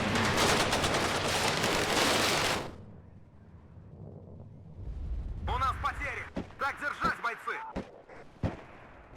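In the WARNO strategy game, PKM machine guns loose a dense, loud roar of gunfire for the first two seconds, then fall silent, and later short bursts and single shots break out under a man's speech.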